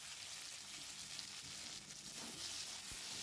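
Potato and pointed gourd with tomato, cumin powder and chilli powder sizzle in a pan, a quiet, continuous crackling fry with small pops throughout and no talking.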